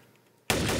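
Gunfire erupts abruptly in the game Trouble in Terrorist Town, a sudden dense burst of shots that stays loud after a quiet moment.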